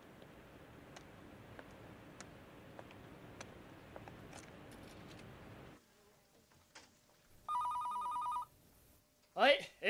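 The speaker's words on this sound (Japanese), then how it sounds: "レオンさん電話" An anime telephone rings in a short electronic trill burst, loud and clear after a quieter stretch of background noise and soft clicks, followed by a further brief sound.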